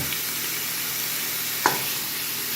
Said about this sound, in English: We're going to add the ground turkey, 1 pound,